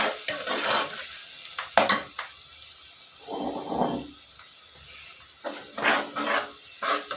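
Garlic browning in a frying pan for beef liver curry, with stirring scrapes and bursts of sizzle in short clusters, loud and close, separated by quieter gaps.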